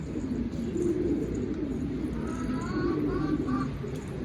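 Pigeons coo softly in low, rolling bursts near their coop, with a few higher bird calls and a faint murmur of background noise around them.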